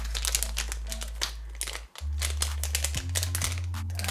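A small plastic collectible packet is torn open and crinkled by hand, with rapid crisp rustles and crackles close to the microphone, over a steady low background hum.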